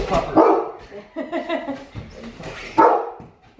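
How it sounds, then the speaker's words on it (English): A big dog barks several loud, close woofs, first at the start and again near the end, with whimpering yips between. "His bark is more intimidating than he is."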